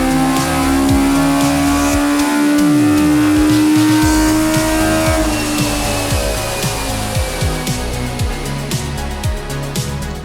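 An engine fitted with individual throttle bodies screams on a dyno, holding a loud, high rev near 9,700 RPM before dropping off, then blipping in sharp repeated revs, close and alone without talk.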